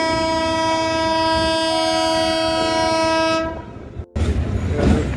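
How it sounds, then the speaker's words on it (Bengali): A train draws into Budge Budge station with a long, loud multi-tone horn blast that cuts off abruptly, followed by the rumble and clatter of the moving carriages. "এই ট্রেন এখন বজবজে ঢুকছে, দেখুন।"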